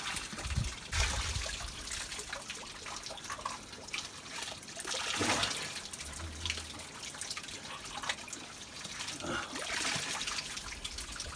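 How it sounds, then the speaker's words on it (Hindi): Cold water trickles out of a cave beside a mountain road, a soft continuous dribble and patter with occasional louder splashes and faint handling noises, fairly quiet and close. "यहाँ रोड के किनारे पे एक गुफा के अंदर ठंडा पानी आता है"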